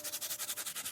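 A nylon bristle brush scrubs soapy nylon webbing in quick, even back-and-forth strokes, about ten rhythmic rasps in under a second, close and alone.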